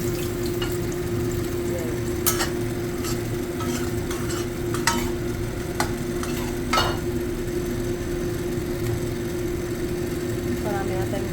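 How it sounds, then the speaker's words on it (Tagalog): Fried tofu being stirred in a pan with salted egg yolk, steady frying sizzle throughout with intermittent scraping strokes of the utensil, close and even, no speech. "Haluin natin. Hanggang sa makuted po lahat ng egg yolk yung tofu"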